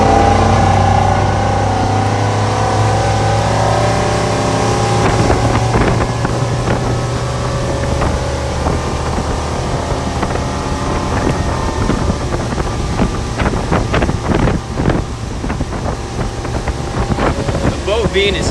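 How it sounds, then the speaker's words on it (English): A 2021 Regulator 26XO boat with Yamaha 425 XTO outboards at full throttle roars loudly and continuously at high revs, with wind buffeting the microphone and water noise throughout. "we'll give it full throttle since the engines are broke in"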